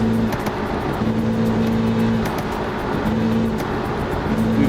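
A car engine in the BeamNG video game runs at very high speed, a loud, sustained, droning roar with steady pitch and slight rhythmic pulsing and no talk.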